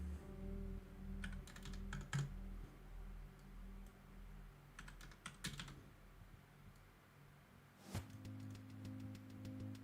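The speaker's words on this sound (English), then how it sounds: "Can you guys try typing something?" Quick bursts of clicking keystrokes on a computer keyboard, clustered in short runs with pauses between, fairly close against a low steady hum.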